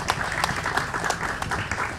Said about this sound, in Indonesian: Kasih tepuk tangan buat teman-teman semua